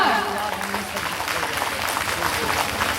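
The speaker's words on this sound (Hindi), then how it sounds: "तालियां बजाकर हमारे माननीय सरकार धवल को बढ़ाएं।" Applause from an audience at a school anniversary program, a steady dense clatter of clapping filling the room throughout.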